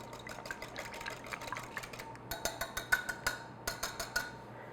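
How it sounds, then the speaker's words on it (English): Egg being whisked into cream in a bowl while baking strawberry shortcake: a run of quick, light clinking taps of a whisk, getting louder and sharper in the second half, with no talk. "So put your egg in your cream and then just kind of whisk it."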